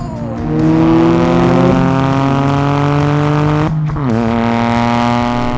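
Toyota GR Corolla hot hatch accelerating hard in a drag race, a loud close engine howl rising steadily through the revs, with a brief dip at an upshift before climbing again.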